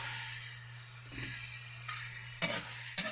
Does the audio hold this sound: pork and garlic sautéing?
yes